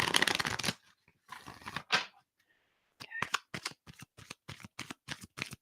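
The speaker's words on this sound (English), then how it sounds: "Let me go ahead and shuffle some cards." Tarot cards being shuffled by hand: a dense riffle burst, a pause, then a run of crisp, evenly spaced card slaps and flicks close to the microphone, with no talking.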